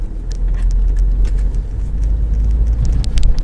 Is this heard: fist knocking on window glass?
no